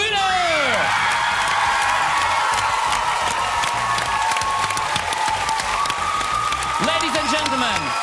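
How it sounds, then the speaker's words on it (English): At the Eurovision Young Dancers 2013 show, a large audience breaks into sustained applause and cheering for the winner, with scattered whoops and a presenter's voice over the clapping. "show some applause again for the winner!"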